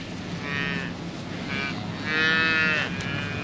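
A cow on a ranch, just after calving, gives several loud, drawn-out moos in a row, close by and unaccompanied by speech.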